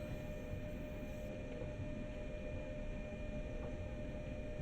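A long, heavy freight train runs through a Train Sim World route, Ruhr-Sieg Nord, giving off a steady, dense rumble of rolling wagons with faint high tonal whines. The sound stays at an even level throughout, with no speech.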